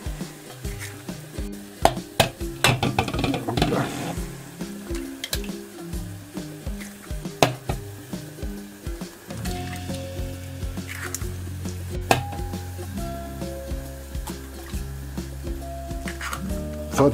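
Butter frying gently in a pan for bread dumplings, a steady low sizzle with scattered clicks and pops, busier at first and settling into a softer, continuous crackle later on.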